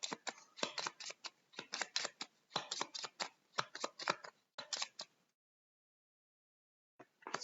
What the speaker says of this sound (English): and we have to shuffle